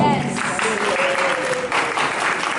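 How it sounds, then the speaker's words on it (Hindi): A seniors program audience claps in sustained applause for a doctor, dense and steady throughout, with a voice briefly audible underneath. "डॉक्टर साहब के लिए थोड़ी सी जोरदार तालियां हो जाए।"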